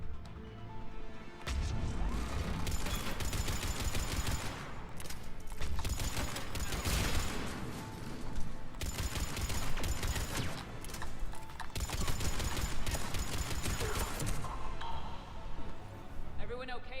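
Turret gunfire in Mass Effect 3 rattles in loud repeated bursts with crashing impacts over several seconds, with a player's voice heard amid the combat.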